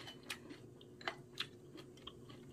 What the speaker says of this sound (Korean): 여기에 겨울무로 김치를 담은 걸로 한번 척척 무청으로 이렇게 걸쳐 먹어요